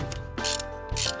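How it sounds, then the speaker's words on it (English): Ratchet turning a bolt during a Toyota Camry engine rebuild, two quick bursts of sharp metallic clicking close up, with no talk. "Let's get the ratchet."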